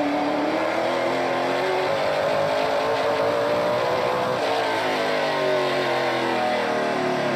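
Stock car engine in a NASCAR Pinty's Series race at Flamboro, a loud sustained roar with rising and shifting engine pitch as the car accelerates, close and continuous with no talk over it.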